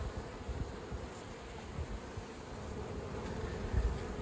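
Honey bees in an open hive, a dense, steady buzzing hum from many insects close by, continuous with small swells in loudness and no talking.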